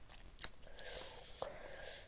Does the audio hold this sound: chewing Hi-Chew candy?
yes